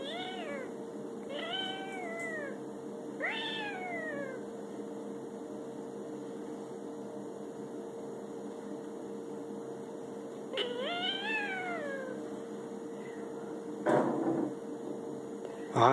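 A cat inside a cabinet meows several times, drawn-out plaintive cries with gaps between them, over a steady low hum and a couple of faint clunks of bowls being moved near the end.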